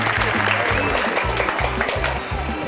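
Applause rises from a quiz-show audience after a correct answer, a dense steady patter of many hands under a thumping rhythmic music bed, loud throughout.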